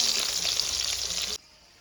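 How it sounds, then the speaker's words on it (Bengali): Fish frying in a pan in a home kitchen makes a bright, hissing sizzle that runs loud for just over a second and then cuts off abruptly. "মাছগুলো চট করে ভেজে নেই।"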